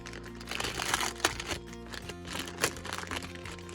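Crinkly wrapping rustles and crunches in uneven bursts as a Secret Santa gift with pretty trim is unwrapped close by, with a few sharper crackles standing out.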